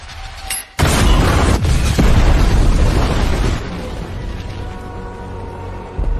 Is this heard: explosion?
yes